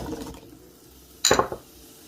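Apple slices tumble into a frying pan with oil and are briefly stirred, a quick clattering burst of clinks and scrapes against the metal after a quiet stretch.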